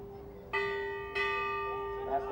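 A polo match bell rings twice to close the fourth chukker, two bright sustained strikes about half a second apart, each tone lingering and slowly fading over a steady hum of crowd and field noise.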